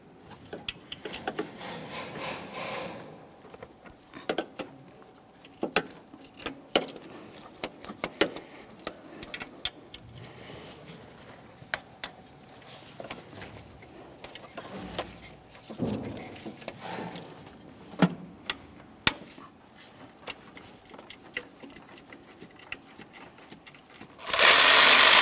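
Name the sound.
removing 13mm alternator mounting bolts, Chevrolet Malibu engine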